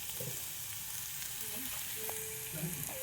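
Egg curry masala with coriander powder sautéing in a pan, a steady close sizzle and frying hiss running throughout with faint stirring scrapes, no talk.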